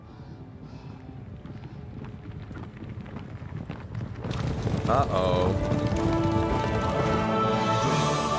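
Horses gallop in the video game Kingdom Come: Deliverance 2, their hoofbeats building and growing louder in the second half amid wind noise, after a brief spoken exclamation.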